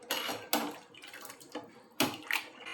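Water being poured into jowar (sorghum) flour for a soup, heard as short splashy pours and drips in a few separate bursts, close and moderately loud.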